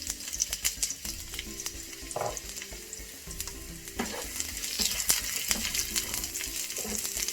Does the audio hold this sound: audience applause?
no